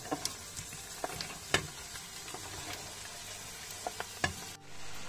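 Vegetables for minestrone soup sizzle in a frying pan while being stirred, with a steady close frying hiss and scattered sharp scrapes and clinks of the utensil, no talk.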